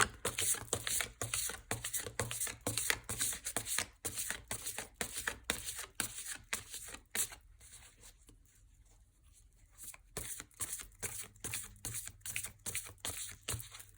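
Oracle cards shuffled for a reading, a dense run of quick papery riffles and flicks that continues steadily, pausing briefly near the middle before resuming, close and fairly quiet with no talking.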